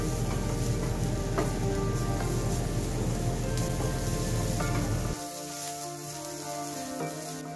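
Onion and chili sizzling in a pan of frying beetroot for a village-style fry, a steady dense crackle that suddenly drops to a softer, quieter sizzle near the end, with no talking.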